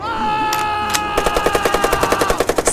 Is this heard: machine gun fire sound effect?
yes